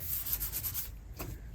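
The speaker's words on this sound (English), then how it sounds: "just sanding the grime off of it." Sandpaper rubs grime off the metal of a vintage Delta Rockwell 1460 wood lathe, a close, steady scratchy back-and-forth rasp in quick repeated strokes, briefly easing before a final pass.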